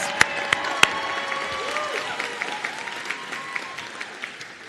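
A graduation crowd at a nursing ceremony claps for the graduates, a few loud close claps at the start blending into sustained applause. Faint voices murmur underneath.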